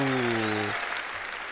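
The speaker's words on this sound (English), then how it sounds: "Applause. So she must have just finished another song." Concert audience at the 2012 Nobel Peace Prize Concert applauding after a song, a sustained sung or instrumental note cutting off into a broad wash of faint, distant crowd clapping.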